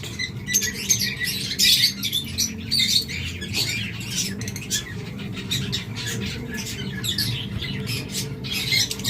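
A pair of albino red-eyed Fischer's lovebirds give a busy run of shrill squawks and chirps close by, overlapping without pause over a low background murmur.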